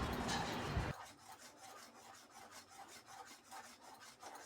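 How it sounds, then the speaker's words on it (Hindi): A spoon repeatedly scrapes and stirs thickening sweet batter made from leftover sugar syrup in a pan over a high flame, with a louder burst at first and then rhythmic, fairly faint rasping strokes. "अब हमने यहाँ पे गैस की फ्लेम को यहाँ पर हाई करके, और लगातार हम इसको चम्मच से चलाते रहेंगे"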